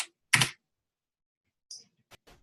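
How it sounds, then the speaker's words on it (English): A few keystrokes on a computer keyboard typing a chat message, with one short burst of presses followed by scattered, well-spaced single clicks in near silence. "As the end user, I might type, something like, how does your system work?"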